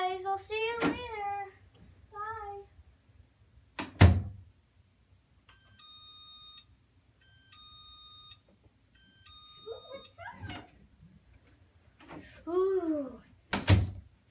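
A doorbell chimes several times in a toy-filled play scene with a baby doll, short repeated electronic tones between bursts of a child's high-pitched talking.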